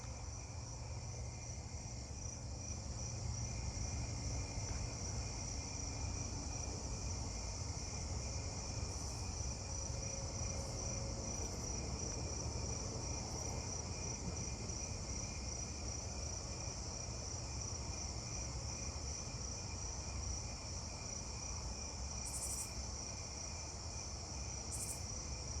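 Davis's tree cricket chirping in an outdoor night chorus of insects, a steady high trilling drone that runs throughout, joined by other crickets and katydids, fairly faint and distant with no voices.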